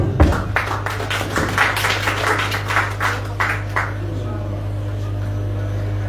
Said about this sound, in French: On applaudit encore M. Tchalos.